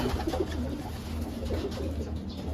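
Pigeons cooing steadily from a pet bird loft, a low continuous burbling coo sustained throughout at moderate loudness with no talk over it.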